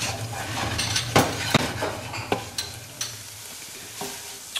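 Onions browning in a pan with cloves, cardamom and cinnamon: a soft, close sizzle under repeated sharp scrapes and knocks of a stirring utensil against the pan, irregularly spaced, no talking.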